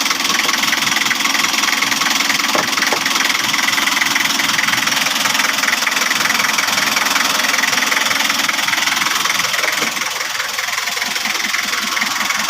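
A car engine idles steadily after a general overhaul with a rough, knocking rumble, close by and continuous, briefly revving slightly near the end.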